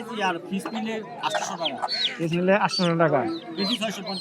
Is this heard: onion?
no